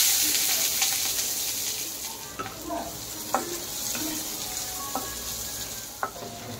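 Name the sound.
frying eggplant in a pan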